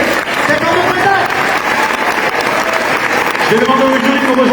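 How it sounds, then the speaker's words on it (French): An audience at an eloquence contest applauds a speaker, with loud, continuous clapping mixed with crowd voices and a few whoops rising toward the end. "On peut l'applaudir, s'il vous plaît."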